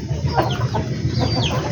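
Several backyard chickens cluck and squawk continuously as they are fed leftover rice, against a steady low rumble, with a few sharper calls rising above the noise.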